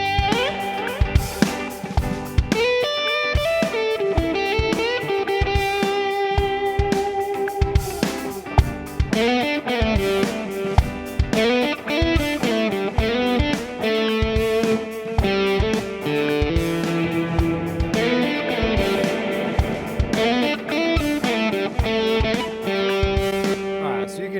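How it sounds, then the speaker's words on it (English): A music track sent through a Helix Native reverb plugin inside a DAW plays as a dense, continuous mix of sustained, slightly distorted tones and rhythmic hits, washed with ambience at steady loudness throughout. "we're going to send the track to this reverb"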